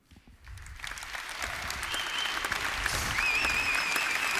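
Audience applause at the world premiere of the new Volkswagen Golf, building from a quiet start into sustained, dense clapping from a large crowd, with a faint whistle near the end.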